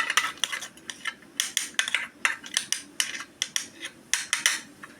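A spoon stirs Bru instant coffee powder in a bowl, rapid clinking taps of metal against the bowl in an uneven rhythm, close and clear with no talk.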